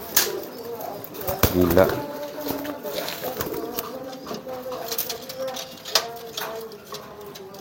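A courting pigeon drives its mate toward the nest with repeated low coos, while someone talks close by and occasional clicks and taps break in.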